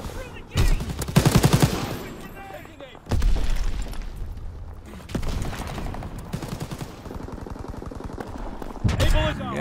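Bursts of automatic gunfire and booms in the Call of Duty: WWII video game crackle in several loud volleys separated by brief lulls, with a voice talking in between.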